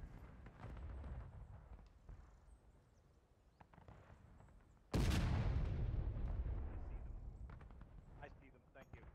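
A single loud blast from a Civil War-era field cannon in the War of Rights video game, on the Wheat Field map, booms near and then rumbles away over several seconds. Quiet talk among the players comes before it.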